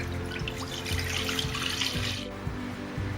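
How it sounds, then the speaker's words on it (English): Milk pours into a pan on the stove, a steady, soft liquid trickle and splash that runs continuously with no voices. "In a pan, add the milk."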